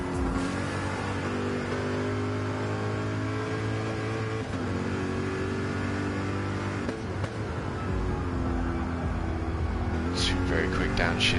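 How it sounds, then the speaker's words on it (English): A GT3 race car in a sim race at Watkins Glen drones at high revs, with quick downshifts and engine note changes near the end, under a steady roar of race audio. "Very quick downshifts there."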